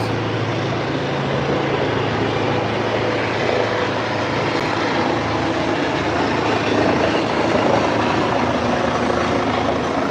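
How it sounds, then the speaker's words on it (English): Helicopters flying low over an arena practice area, producing a heavy sustained rotor thrum and engine roar that stays loud and even, swelling slightly toward the end. "Can't do lives with those helicopters."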